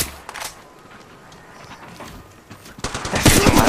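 Video game gunfire in an ongoing firefight, scattered distant shots at first, then dense, loud bursts build toward the end, with no talk.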